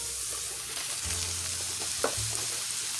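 Ground beef sizzles steadily in a hot pan with minced garlic for lasagna roll-ups, a continuous close frying hiss with a brief louder crackle midway and no talking.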